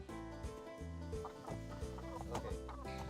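Several chickens cluck and squawk continuously at their laying spot on a farm, close by and fairly loud, with overlapping calls and no pauses.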